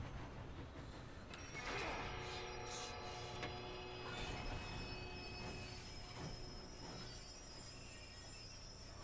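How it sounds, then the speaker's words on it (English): Train running in the video game Red Dead Redemption, a rumbling rolling rattle of wagons with high squealing wheel tones rising and fading over it, steady throughout and fairly quiet. "Yeah, I want to stop the train"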